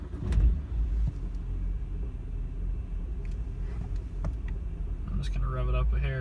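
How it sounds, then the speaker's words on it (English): A BMW E91 328i with the N52 engine starting in a garage and settling into a low, steady idle, a deep rumble near the car with a brief blip at the end. "Now that the service is reset, time to fire it up."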